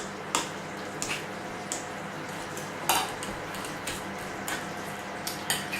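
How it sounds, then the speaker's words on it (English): Ingredients for a beef giuvech puree are mashed by hand, giving soft intermittent knocks and squishy taps spaced about every second over a low steady background, fairly quiet. "I'm gonna try and mash it now."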